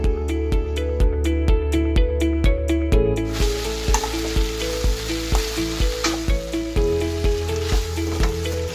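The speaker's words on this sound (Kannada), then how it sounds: "ಇವಾಗ ನಾವು ಕರೆದಿಟ್ಕೊಂಡಿರುವಂತ ಈ ಗೋಬಿನೆಲ್ಲ ಒಂದ್ ಸ್ವಲ್ಪ ಸ್ವಲ್ಪನೆ ಈ ಗ್ರೇವಿಯೊಳಗೆ ಹಾಕೊಳ್ತಾ ಚೆನ್ನಾಗಿ ಮಿಕ್ಸ್ ಮಾಡ್ಕೊಳ್ತಾ ಬರೋಣ." Fried cauliflower pieces being stirred into sizzling Manchurian gravy in a pan, with a steady, close sizzle and regular stirring scrapes under a repeating musical backing track, no voices.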